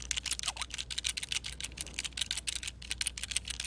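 Computer keyboard keys pressed rapidly and repeatedly while playing the online game Gaia Online, a steady stream of close, crisp clicks and clatters with no talking.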